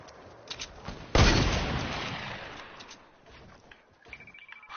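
A single loud gunshot cracks out in the video game Squad, followed by a long rolling echo that fades over several seconds, with faint background game noise and no talking.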